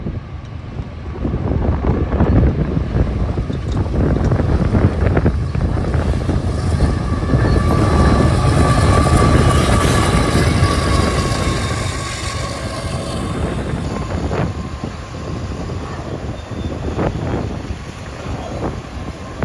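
A CSX freight train rolls past on the L&N line, a broad rumbling roar of wagons with rail squeal tones and heavy microphone wind noise, loud and steady before easing off toward the end.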